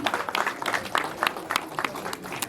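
Audience applause greeting Archana at a movie poster launch event, a dense patter of many hands clapping with busy crowd noise, steady and fairly loud throughout the short stretch.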